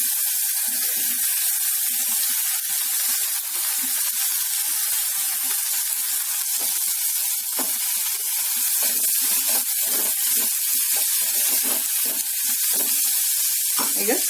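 Onions fry in hot oil and ghee with tempered spices. A steady, bright sizzling hiss runs throughout, broken by soft bubbling pops and light stirring.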